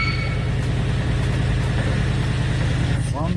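A car's engine drones steadily and loudly as its rear wheels spin in place in a burnout, a constant close rumble throughout.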